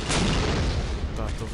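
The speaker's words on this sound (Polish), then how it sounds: "Tak, to wybucha." A loud, dense explosion rumbles through a survival video game, a broad sustained blast of noise with a few later crackling bursts, over about a second and a half.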